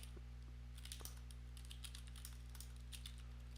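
Soft keyboard typing clicks scattered across the clip, faint and close, over a steady low electrical hum with no voices.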